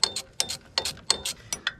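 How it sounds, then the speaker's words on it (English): A ratchet wrench clicks in rhythmic bursts while loosening a nut on a New Holland skid steer hydraulic cylinder, about five close, evenly spaced strokes. "I just gotta take this nut off and get that alignment hole."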